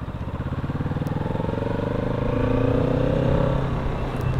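Green 2022 Kawasaki Z650 RS motorcycle on a ride, its engine pulsing in a rapid throb that swells and climbs in pitch as it accelerates, close and fairly loud with no talk.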